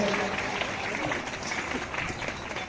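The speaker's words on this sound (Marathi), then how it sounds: "जोरदार टाळ्या वाजवायच्या सर्वांनी." Steady crowd applause at a Republic Day school event, a dense wash of many hands clapping throughout, with some voices mixed in.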